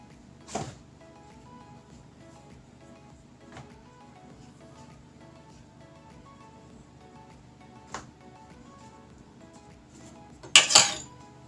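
A metal baking tray dusted with flour is handled and set down in a quiet kitchen. A few soft, sparse knocks and clinks build to a brief, louder metallic clatter near the end.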